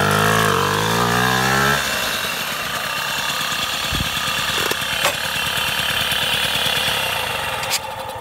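A Motobécane N40 moped engine starts with a rising whine, then settles into a steady, loud, rapid two-stroke putter close by, running continuously with a couple of brief knocks.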